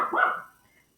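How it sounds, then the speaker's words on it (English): A dog barks once indoors during a home math lesson, a single short muffled bark that fades quickly into quiet. "So sorry about the dogs."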